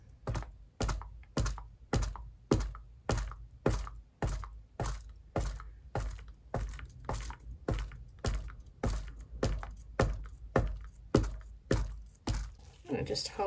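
Repeated sharp thuds of a Jesmonite resin mold for geometric tealights being banged on a surface to release air, about two knocks per second in a steady rhythm over the full span, close and loud.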